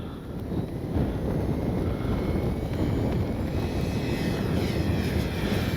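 An FMS PC-21 Pilatus RC model airplane flying overhead, its steady engine drone and wind rush constant and fairly loud, with no speech.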